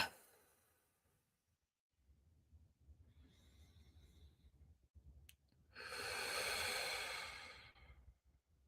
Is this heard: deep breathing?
yes